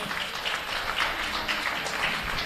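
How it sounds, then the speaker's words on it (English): A crowd applauds the young exhibitors at a junior goat show at a county fair, giving steady, fairly faint clapping that carries across a large space without letup. "let's give all of these kids a big round of applause for the nice goats"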